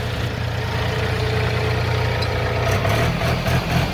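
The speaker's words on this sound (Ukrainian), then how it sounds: "Потужний трактор." A Shifeng 244 tractor's heavy diesel engine idles steadily and loudly with a deep, constant rumble, no voices present.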